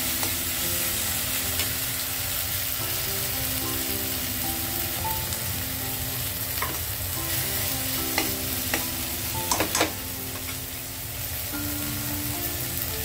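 Poppy seed paste fries in a kadai with a continuous sizzle while a utensil stirs and scrapes, producing a few sharper clicks against the pan; no one speaks.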